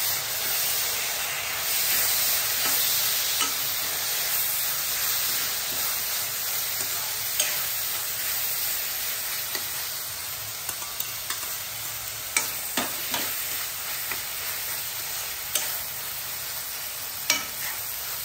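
Onion and tomato sizzle steadily in a pan for a Goan butter chicken masala, a constant bright frying hiss with scattered scraping clicks of a spoon stirring, close up and uninterrupted by talk.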